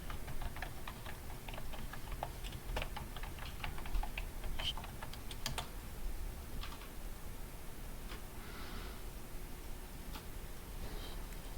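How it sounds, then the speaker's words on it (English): Someone types an email address on a computer keyboard, producing bursts of quick, light key clicks with short pauses, close and fairly quiet over a steady background hum. "Alright, so I'll just enter my email here."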